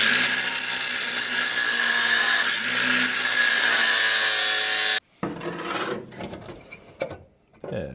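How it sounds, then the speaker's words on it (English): A power shear bites through 18 gauge steel sheet for a 1941 Mercury door cap, a loud, steady grinding buzz for about five seconds, then it cuts off into quieter scraping and handling noises. "I'm going to cut this with the shear,"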